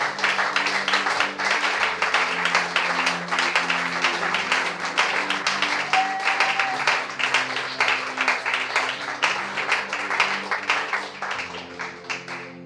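A church congregation applauds continuously and fairly loudly, a dense steady wash of clapping hands with a faint murmur of voices underneath throughout.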